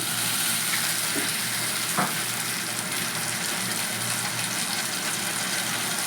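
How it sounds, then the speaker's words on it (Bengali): Water poured into a pan of frying onion and tomato sets off a steady, close, even hiss of sizzling with a few faint clinks, and no voices. "এবার সামান্য একটু জল দিয়ে দিলাম"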